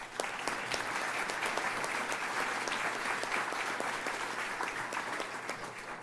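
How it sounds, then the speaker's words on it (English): Audience at a mayoral candidates forum gives the sponsors a round of applause, a sustained, even patter of many hands clapping at moderate distance, steady throughout. "Give them a round of applause."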